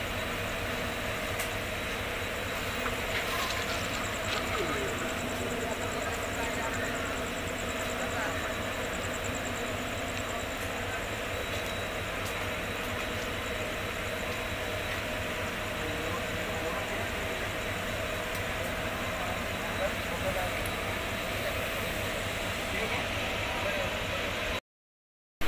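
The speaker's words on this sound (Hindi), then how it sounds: "रात 12:30 बजे का बादरा रेलवे स्टेशन का" Badra railway station after midnight: a low, steady engine hum and rail-yard drone persist at a quiet level, with faint distant voices and occasional clanks scattered through the long stretch.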